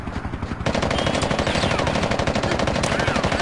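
Rapid automatic gunfire in the street-brawler video game Fighting Force, a dense, loud burst of machine-gun shots that kicks in after a quieter moment and rattles on steadily to the end.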